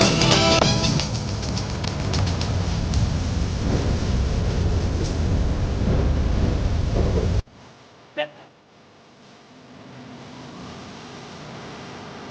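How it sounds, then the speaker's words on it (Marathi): Heavy rain and rumbling thunder in the GTA V video game, a loud continuous wash for about seven seconds that cuts away abruptly, followed by a brief sharp crack and a quieter steady hiss. "पाऊस पण पडायला लागला इथं, विजा पण कडकायला लागतंय"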